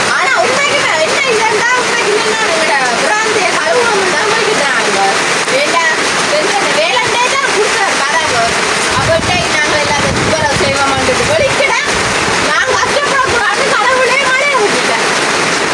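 Steady, heavy rain pours and splashes continuously, a dense wash of water filling the whole scene.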